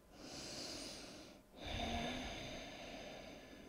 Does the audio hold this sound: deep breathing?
yes